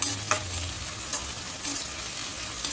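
Onions sizzle and crackle as they fry in hot oil with a few scraping stirs, steady and close, with no voices.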